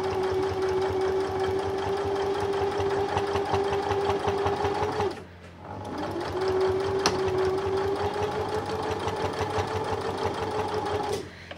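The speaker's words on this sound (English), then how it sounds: "So let's just have a stitch." A sewing machine hums steadily while stitching in the ditch on a quilt. It runs in two long, even stretches separated by a brief pause.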